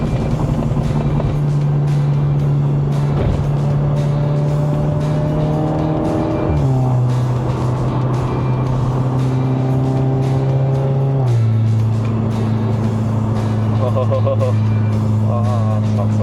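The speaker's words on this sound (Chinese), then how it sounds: "降了档我就准备要踩油了哦" A MK5 Volkswagen Polo GTI in sport mode, driven on a Malaysian road, drones steadily from inside the cabin, then drops a gear and revs up with stepped rises in engine pitch, while a voice talks over it.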